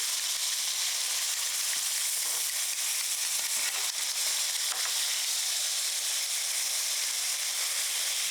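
Hamburger patties sizzle on a hot cooking surface, a steady bright crackling hiss that carries on evenly throughout with small pops and no talking.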